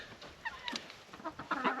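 Backyard chickens near a winter water setup give soft, scattered clucks, a few brief calls spaced across a quiet moment with no talking.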